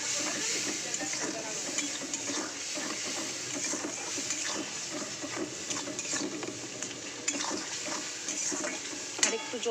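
Water poured into a cooking pan of cumin, turmeric and chili powder, a continuous splashing hiss with faint clinks of utensils, close and steady throughout with no voice.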